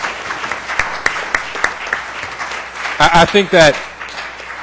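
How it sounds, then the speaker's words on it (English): Audience applause at a Rochester Board of Education meeting, with scattered claps through the first few seconds and then a brief louder burst near the end that partly overlaps a speaking voice. "let's give her a round of applause, please."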